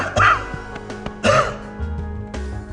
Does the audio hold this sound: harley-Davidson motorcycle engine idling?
no